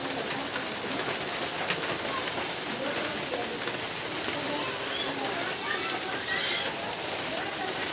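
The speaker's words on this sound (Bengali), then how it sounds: "দেখুন বৃষ্টি হইতেছে।" Rain falls steadily in a flooded neighbourhood during a downpour, a dense constant hiss that stays even and close throughout, with soft patter and faint distant activity mixed in.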